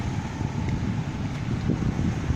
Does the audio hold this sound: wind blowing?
yes